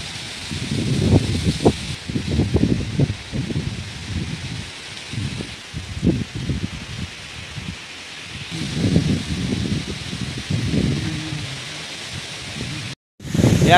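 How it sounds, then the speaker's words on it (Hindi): Wind gusts rustle steadily outdoors in a village yard where goats and chickens are kept, with broadband blustery noise rising and falling throughout, louder bursts around the start and middle, and a sudden drop near the end. "यार आज जो ये हवा चल रही है ना"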